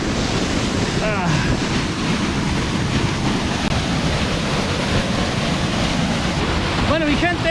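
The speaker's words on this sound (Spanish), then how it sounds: "ya me encuentro en la famosa cascada La Leona" Cascada La Leona, a waterfall near Salamanca, Chile, roars as a steady broadband rush of falling water with wind buffeting, loud and continuous from start to finish with no break.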